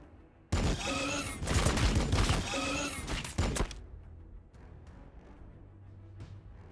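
Burst of sci-fi gunfire from the Warhammer 40,000: Battlesector turn-based strategy game, a loud dense volley lasting about three seconds, then fading into quieter scattered thuds and ambient rumble.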